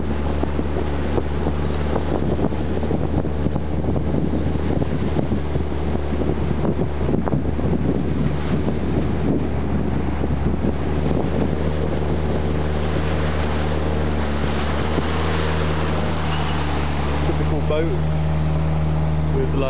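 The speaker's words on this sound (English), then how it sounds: "Typical boat with like far too many people in it probably" Steady low engine drone of a crowded boat fighting the current on the Nam Ou river at high water, with rushing water and wind buffeting, continuous and loud throughout.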